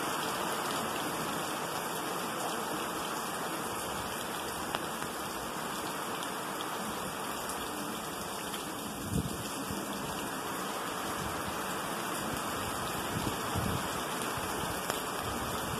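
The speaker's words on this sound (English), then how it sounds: "to get out of the rain" The first November rain falls in Lake Elsinore, California, as a steady, even hiss of rainfall on surfaces that lasts throughout, with a few faint soft knocks and no talk.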